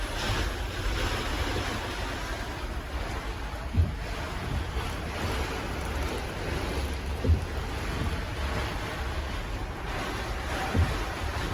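Strong, steady summer storm wind at an airport roars and buffets the microphone continuously, with a few low thumps of gusts; no voices.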